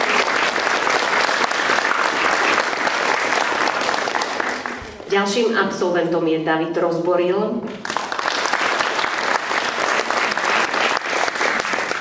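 Loud, dense audience applause at a school gala concert fills the hall, breaking off for an announcer's voice in the middle before clapping resumes and continues steadily to the end.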